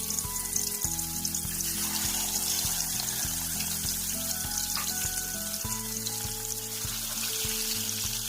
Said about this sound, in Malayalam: ചാള വറക്കാനുണ്ട് കേട്ടോ.